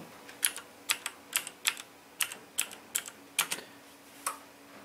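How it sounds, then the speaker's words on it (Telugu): Keys clack on a computer keyboard as a password is typed at a boot screen, a quick, uneven burst of about a dozen crisp presses, close by, with no voices. "ఇక్కడ నేను పాస్వర్డ్ టైప్ చేస్తున్నాను"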